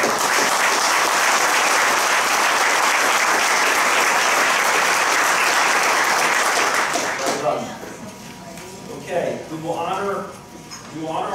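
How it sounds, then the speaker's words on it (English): An audience at a chamber of commerce event applauds award winners, dense loud clapping for about seven seconds, then tapering off as a voice begins speaking over the last scattered claps. "Let's please give all of them a round of applause"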